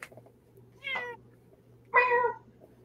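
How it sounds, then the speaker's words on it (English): A house cat gives two distinct meows about a second apart, close and clear against a quiet room with a low steady hum. "He's always meowing,"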